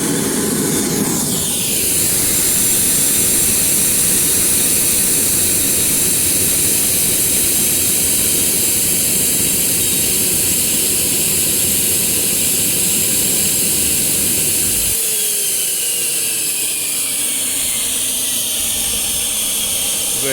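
A turbo jet engine runs hard with its gas increased, a loud continuous roar and high hiss that holds steady for many seconds, then the low rumble drops away and a falling whine trails off as the engine cuts out.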